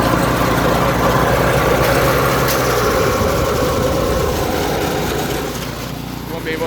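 LCT engine swapped into a snowblower, already warm, running with a loud, steady mechanical rumble and rattle close by, settling slightly quieter toward the end.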